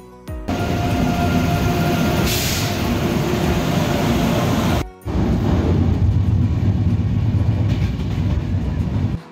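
A passenger express train in North Bengal rumbles along steadily and loud, with a brief break midway before the rolling, rattling noise resumes.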